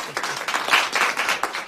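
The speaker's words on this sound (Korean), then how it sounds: "여러분 큰 박수로 환영해 주시기 바랍니다." A crowd applauds steadily at a political party campus gathering, welcoming the party leader to the stage, the clapping dense and continuous throughout with no voices above it.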